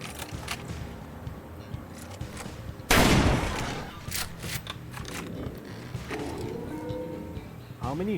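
Gunfire at an outdoor shooting range: a sharp, loud crack with a burst of reverberant noise, surrounded by lower crackles and handling sounds, with people's voices faintly in the background.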